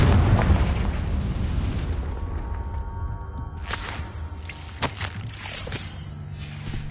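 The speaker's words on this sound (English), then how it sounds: "Confringo!" A Confringo spell in Hogwarts Legacy bursts as a booming, whooshing explosion at the start, then fades into a quieter cave ambience broken by a few sharp pops and cracks.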